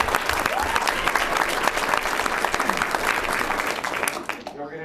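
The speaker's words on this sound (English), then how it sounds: "So give them a round of applause." An audience at a school board meeting breaks into loud, sustained applause, a dense wash of clapping with some crowd murmur, tapering off just before the end.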